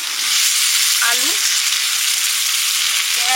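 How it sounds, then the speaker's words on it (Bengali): Potatoes and chopped onion with whole cumin and salt frying in hot oil, a steady loud sizzle throughout with a brief stir scrape near the middle. "পেঁয়াজের সঙ্গে আলুটাও ভাজা হয়ে যাবে"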